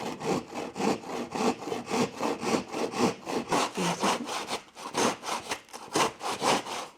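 A hand saw cuts through a length of coving at a slight angle, with steady, even back-and-forth rasping strokes, close and loud, about three strokes per second with no talk.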